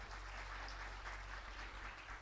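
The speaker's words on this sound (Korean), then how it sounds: "우리 큰 환영의 박수를 한번 좀 해주시기" A church congregation applauds to welcome newcomers during a Sunday service, producing steady, dense clapping from many hands that fills the room evenly from start to finish without any speech.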